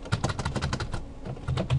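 Someone types a terminal command on a computer keyboard while setting up an Ubuntu web server, with a rapid run of close, crisp key clicks, a brief pause, then more keystrokes.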